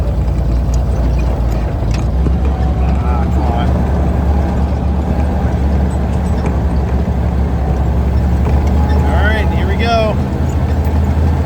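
A 1943 Dodge WC weapons carrier's heavy-duty engine drones loudly and continuously while driving slowly in first gear, a deep steady rumble with someone talking over it.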